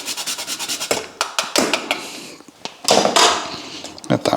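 Cheese is grated into a sauce in several close, rough rasping strokes of uneven length with short pauses between them.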